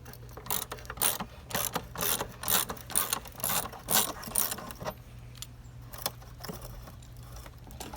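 A 9/16 socket loosening a rusty nut on the tension band of a Hayward Pro Grid DE pool filter: a run of quick metallic ratchet clicks in bursts, then fainter scattered clicks as it slows.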